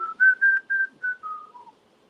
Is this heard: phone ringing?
no